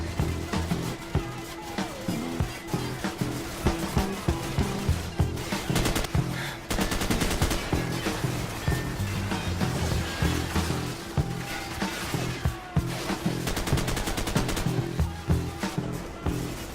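Rapid automatic gunfire rattles in dense bursts from enemies in Call of Duty: Modern Warfare, steady and crowded over the whole stretch with layered shots and no talking.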